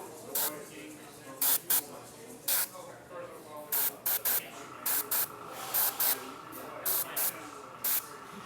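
Short bursts of hissing airbrush spray applying basecoat paint to a figure, repeated in an irregular rhythm, close and fairly loud over a quiet background.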